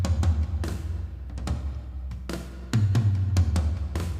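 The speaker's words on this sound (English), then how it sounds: "So together, the toms on their own sound like this." Dry drum toms from a worship-style drum mix, with low mids cut, played back as a quick fill: repeated deep tom hits in a busy rhythm, close and punchy, with no voices.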